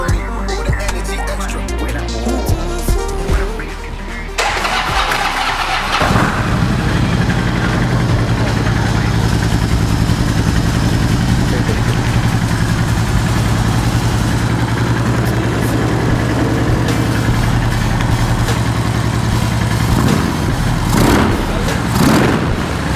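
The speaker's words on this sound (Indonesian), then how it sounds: "Yuk kita coba dengar suara mesin USA dengan konfigurasi mesin Fitwing." A Harley-Davidson with a twin-cylinder engine idles loudly and close by indoors, its low, steady rumble running throughout after a brief rougher start.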